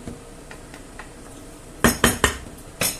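A spoon scrapes and clinks against a pan while bacon, chickpeas and noodles are mixed off the heat; a few soft strokes give way to four sharp, close metallic knocks.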